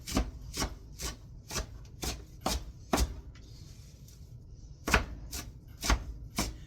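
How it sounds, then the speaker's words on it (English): Kale roughly chopped with a knife on a board: a dozen or so crisp, close knocks in an uneven rhythm with a brief pause midway, no talking. "So I'm just going to give this a rough chop."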